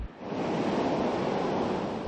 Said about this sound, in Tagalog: Malakas na kasi ang hangin at naglalakihan na rin ang alon.